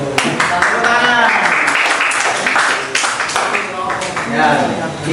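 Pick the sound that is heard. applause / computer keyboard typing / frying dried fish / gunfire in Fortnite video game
applause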